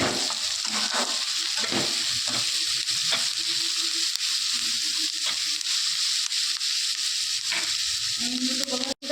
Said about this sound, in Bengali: পেঁয়াজ কলিগুলোও দিয়ে দিলাম। ভালো করে একটু ভেজে নেব।